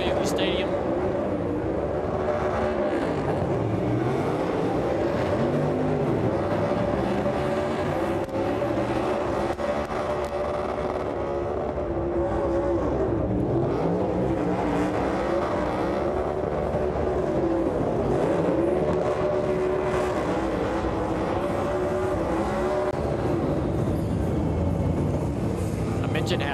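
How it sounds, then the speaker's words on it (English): A NASCAR Cup Series race car does a burnout in a stadium in Mexico City. The engine roars steadily and loudly, with a rising and falling drone over crowd noise, and a voice talks throughout. "Going to do a burnout right here in front of everybody in the stadium."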